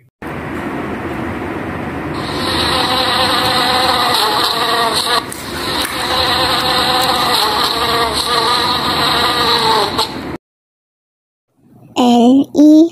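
Steady, dense bee buzzing drones loudly for about ten seconds, then cuts to silence before a short burst of a voice.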